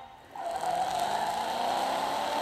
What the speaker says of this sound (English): I don't know why my Taycan has engine noise